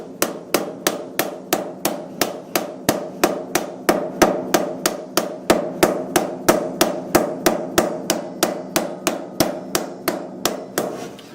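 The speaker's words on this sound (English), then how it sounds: "we're going to smash this edge down with your mallet" A mallet pounds a sheet metal hem flat on a vise, with sharp, evenly spaced metallic blows that land about three times a second, loud and close, with no talking.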